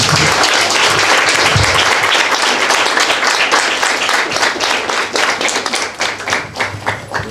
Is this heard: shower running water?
no